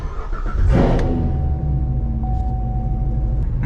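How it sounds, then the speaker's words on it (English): A Chevrolet Corvette C7 engine starts with a quick crank and surge, then settles into a steady idle, heard close from inside the car. "bring the key fob inside the car and start the engine"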